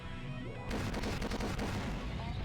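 Sustained gunfire from a shootout inside a store in the video game Rose Guns Days, starting abruptly after a quieter lead-in and then keeping up a dense, loud, continuous barrage of rapid shots and impacts.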